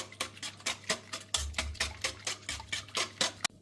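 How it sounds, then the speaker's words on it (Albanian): Petulla pastry batter with vanilla sugar is stirred in a bowl with quick, rhythmic scraping strokes, about a dozen in a few seconds. The stirring is quiet and close, with no talking. "Përzijemi edhe një herë, derisa gjitha produktet thiten dhe të bëhen bashkë."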